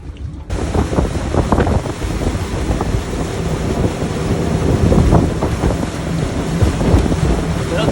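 Boat moving out onto a lake from a dock, with steady engine rumble, wind buffeting the microphone and water splashing against the hull throughout, close and continuous.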